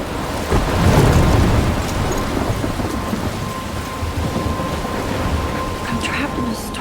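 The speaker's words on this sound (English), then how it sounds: "I'm trapped in a storm?" A thunderstorm in Life is Strange Remastered pours steady heavy rain, with a deep rumble of thunder swelling early on and then fading under the constant downpour and wind.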